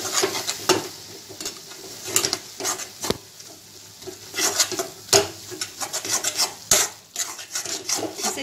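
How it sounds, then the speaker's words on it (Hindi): Flour (maida) being stirred continuously in a pan over low flame, giving repeated scraping, rasping strokes with short pauses between, close and clear with no talking. "अब मैं इसे कंटिन्यू चलाऊंगी"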